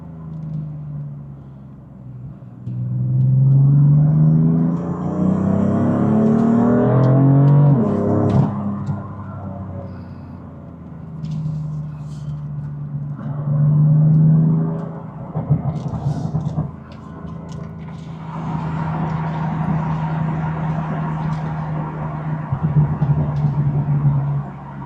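A BMW M4 engine revs up hard with rising pitch, drops back, then surges again several times, loud and close, with a low idle rumble between pulls.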